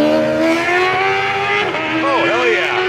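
A Suzuki 750 racing motorcycle pulls out of the pits at a New Hampshire Speedway race meeting with a loud, steady high-pitched engine whine, while its rising harmonics sweep up as it accelerates away, another machine roaring close by.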